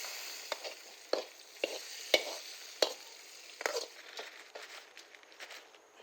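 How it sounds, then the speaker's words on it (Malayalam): Mustard seeds fried with curry leaves and dried red chillies are poured into beef peralan and stirred over a low flame: a soft steady sizzle broken by several sharp spoon scrapes and clinks. "ഇത് നമ്മുടെ കടുക് വറുത്തത് അതിനകത്തോട്ട് ഒഴിക്കുക."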